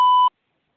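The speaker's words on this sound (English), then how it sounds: "I just hear a weird beeping." A single short electronic beep, a clean steady tone lasting under a third of a second, then silence.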